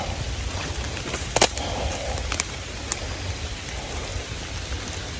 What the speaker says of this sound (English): It didn't storm as bad, but it has rained more than what it said it was going to.